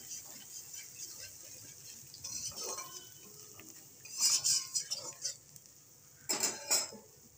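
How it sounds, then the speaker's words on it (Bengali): Spices with turmeric and a little salt sautéing in a pan for a silver carp fish curry, a soft sizzle with intermittent scraping stirs and metallic clinks that grow louder toward the end, close by. "আর ওর মধ্যে আমি একটু হলুদ, সামান্য একটু লবণ দিয়ে মশলাটা কষিয়ে নিচ্ছি"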